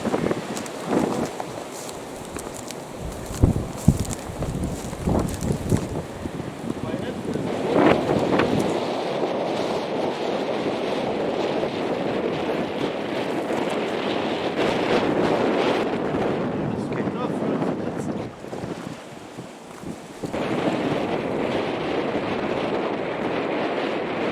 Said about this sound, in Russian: Сегодня прям ураган какой-то. Вообще. Ветер дует.